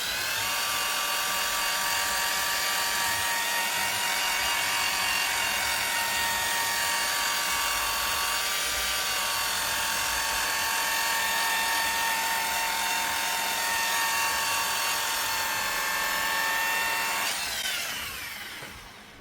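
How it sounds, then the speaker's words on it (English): A car paint polisher works along the edge of a repainted bumper, a steady loud whine with slowly wavering pitch running continuously at close range before winding down at the end. "I'm going to come in with my polisher and I'm going to tilt a little bit and work my way up to the edge"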